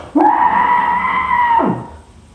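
A person gives one sustained, loud, tonal scream to release anger, held steady for over a second before dropping away.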